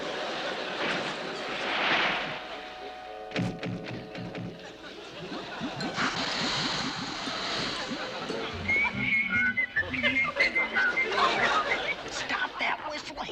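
A cartoon character whistles a thin, wavering tune in the Scooby-Doo classic cartoon, heard briefly near the end over busy background music and effects, with voices in the scene.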